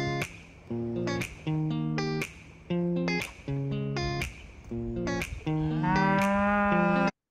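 A cow moos loudly over and over in a series of long, drawn-out calls. The sound plays back from footage being cut in a video editor, with no voices over it.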